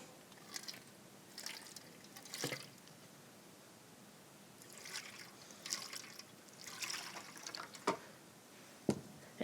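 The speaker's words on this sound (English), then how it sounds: "we're actually going to pour water over our hands 3 times" Water from a pitcher trickles and splashes over hands in a Shabbat ritual washing, a few soft, faint pours with quiet dripping, close by and with no talk over it.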